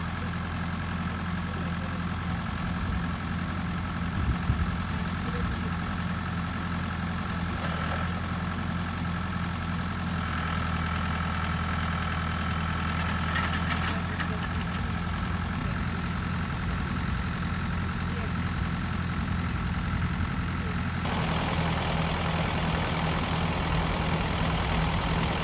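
A farm tractor idles steadily while dropping off a hay tedder, a constant low engine rumble running unbroken and fairly close, with faint mechanical clinks layered in and a slight shift in tone near the end.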